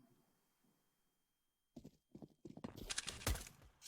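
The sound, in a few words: footsteps in Counter-Strike video game, Overpass map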